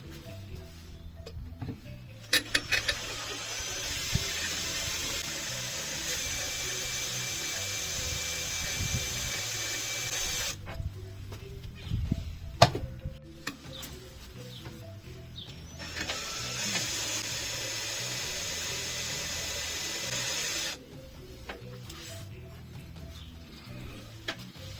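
A power tool at low RPM slowly works titanium bolts out of a two-piece clubsport wheel rim from a BMW E36 323ti Compact: long stretches of steady high whirring, broken by pauses and clicky ratcheting knocks.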